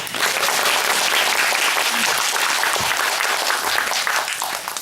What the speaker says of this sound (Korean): 박수 한번 또.